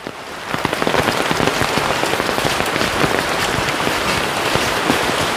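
Heavy rain pours down in a forest, a dense, loud, steady patter of drops on leaves and surfaces with no talking.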